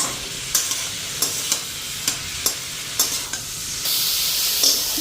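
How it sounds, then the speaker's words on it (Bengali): Cabbage fries in a pan while a utensil scrapes and stirs it in regular strokes over a constant sizzle, and the frying grows louder and brighter near the end. "ভালো করে লাড়া দিয়ে আনি"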